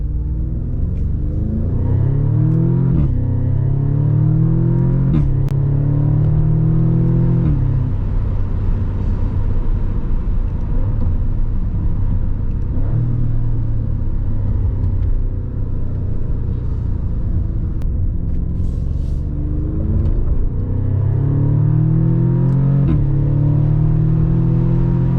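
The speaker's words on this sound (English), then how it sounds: "here is the sound inside the cabin with the original exhaust in sport" Audi S3 engine heard from inside the cabin with its original exhaust in sport mode: a steady low droning rumble that rises and falls in pitch through gear changes over about 25 seconds, with no speech.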